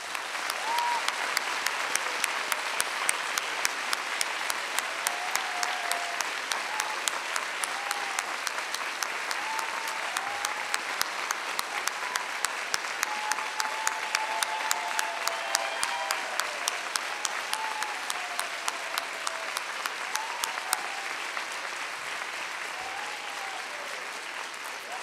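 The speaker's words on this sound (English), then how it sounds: "join me in applauding the graduates of" University convocation audience applauding the graduates, sustained dense clapping from a large crowd that holds steady and then thins out near the end.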